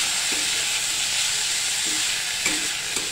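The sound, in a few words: chopped tomatoes sautéing and sizzling in a pan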